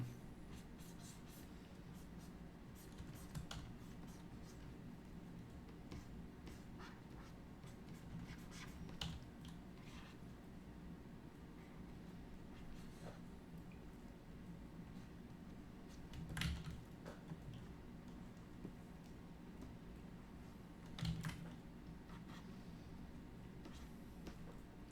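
A pencil sketching character hair designs on paper, giving faint, continuous soft scratching strokes close by, with two slightly louder taps and no talking.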